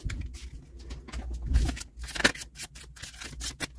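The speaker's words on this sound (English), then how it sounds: "Let's try shuffling. And then I'll do a riffle." Oracle cards riffle shuffled by hand, a quick run of crisp flicking, fluttering card sounds close by, with a brief soft thump partway through and no speech.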